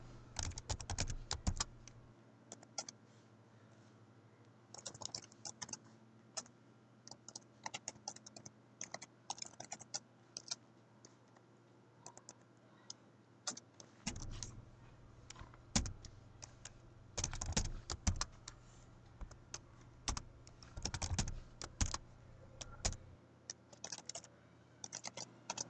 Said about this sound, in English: Okay, so I'm still typing here.